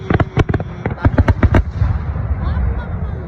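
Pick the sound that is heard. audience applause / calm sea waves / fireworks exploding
fireworks exploding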